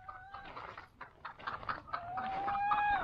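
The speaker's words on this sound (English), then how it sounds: "We got some chickens." Chickens at a small zoo in New Mexico cluck in quick, uneven bursts, ending in a drawn-out crowing call, moderately loud and close with no talk.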